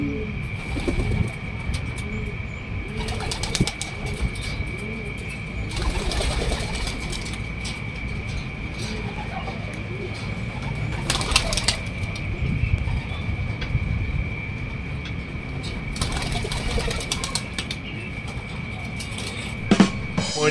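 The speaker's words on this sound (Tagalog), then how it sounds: "Ay lumipad na mga kalapati natin, parang naka 10 ikot lang sila" Pigeons coo softly in a loft on an overcast morning, with bursts of wing flapping as the flock takes off, over a steady background hum and occasional rustling.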